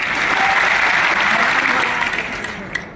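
An audience applauds loudly and steadily at a public gathering about rural doctors, with sustained clapping throughout that tapers slightly toward the end.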